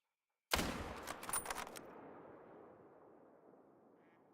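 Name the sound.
rifle gunshot while hunting, from video game theHunter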